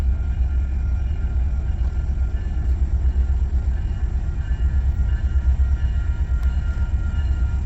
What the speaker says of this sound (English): Looks like we've got a train coming here on the UP side from the Chicago section.